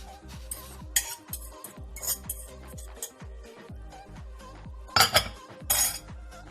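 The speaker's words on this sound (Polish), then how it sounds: "Dobrze, mieszamy." A spoon repeatedly scrapes and clinks against a metal pot while borscht with shredded meat, beans and grated beetroot is stirred, in an irregular rhythm of close, clear knocks and scrapes with no talking.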